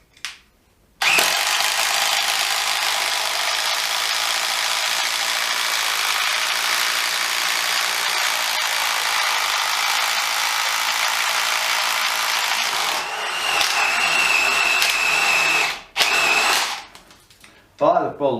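A Bosch GDX 18V 200C cordless impact driver runs a 16mm self-feed bit through decking in a speed test, giving one long, loud, steady whir of about twelve seconds that rises in pitch near the end before cutting off.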